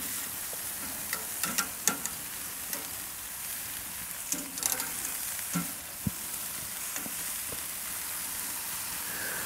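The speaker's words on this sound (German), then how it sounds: "Außerdem werde ich jetzt die Bratwürstchen mal auf die direkte Hitze ziehen, dass wir da noch ein paar Röstaromen dran kriegen." Homemade Thai BBQ bratwurst sizzles over direct grill heat with fat starting to render out, a continuous soft hiss broken by scattered pops and crackles, close and alone.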